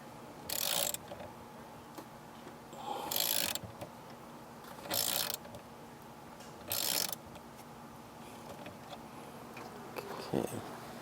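Four short bursts of ratchet clicking tighten the ground cable nut on the auxiliary battery of a Mercedes E-Class W212, separated by pauses of quiet background, with a faint knock near the end; close and moderately loud.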